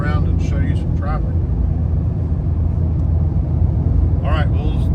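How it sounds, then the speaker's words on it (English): Steady heavy highway traffic rumbles continuously, a dense loud roar of passing vehicles with a few faint higher squeals or calls rising above it. "We'll scan around and show you some traffic."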